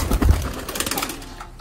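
Pigeons in a loft give a few soft, close coos in a short burst that fades quickly.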